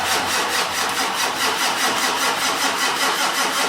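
The engine of a 1946 Ford cranks over and over in a fast, even rhythm without catching, loud and close, with no voices.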